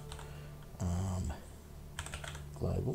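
Computer keyboard typing comes through as short clattering bursts near the middle and end of a GameMaker Studio 2 coding session, close and moderately loud, with someone speaking over and between them.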